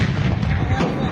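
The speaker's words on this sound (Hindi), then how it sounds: "सीरियाई सेना जो आखिर कैसे तोप का इस्तेमाल कर रही है" Syrian army artillery cannon fire in the war against rebels booms in heavy repeated thuds over a dense, loud rumble of battle noise.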